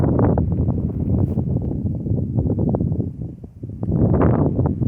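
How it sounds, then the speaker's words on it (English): Strong, gusting wind buffets the microphone outdoors at a shooting spot by granite and brick, a continuous loud low rumble that dips briefly near the end, then surges again. "the wind has picked back up again"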